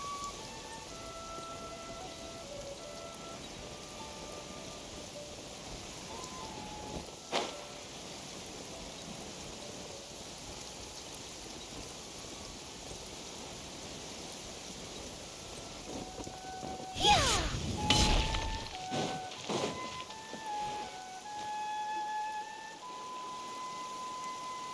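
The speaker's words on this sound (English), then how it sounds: "Rain can be quite troublesome sometimes." Steady rain hiss in a video game scene, with a sharp crack of thunder partway through and a few rumbles after it, then continuing rainfall.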